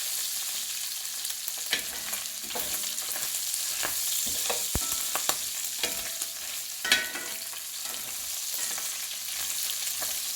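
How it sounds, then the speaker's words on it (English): Onions are tossed and fried in a hot pan for hamburger steak, giving a steady close sizzle broken by sharp scraping and clattering bursts as they are stirred. "And then I'm going to toss these onions around and finish them off."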